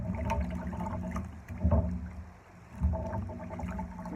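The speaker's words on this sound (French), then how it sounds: "Je vais le remettre dans l'eau." A cleaning glove is dunked back into a basin of water instead of under a tap, making soft sloshing and splashing, with a couple of brief louder dips amid quiet movement.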